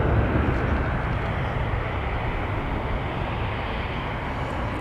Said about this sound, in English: This is actually the aircraft that just went around moments ago. Now in for its second attempt.